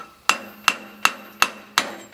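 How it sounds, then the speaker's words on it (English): Five sharp, evenly spaced metallic strikes ring out as a club hammer drives a wide chisel into stone while framing a stone entrance at an Italian farmhouse, each blow loud, close and decaying quickly, with no talking. "So a nice wide chisel and a club hammer"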